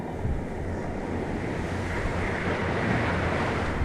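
Strong wind gusting across a tropical island beach, a dense continuous roar buffeting the microphone with surf mixed in, loud and steady throughout with no talking.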